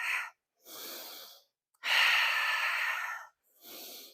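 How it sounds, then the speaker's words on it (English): Heavy exhaling breaths during a bodyweight cardio workout: four forceful, breathy exhales, close and loud, separated by short silences, with one long drawn-out breath in the middle. "Big exhales, let it out."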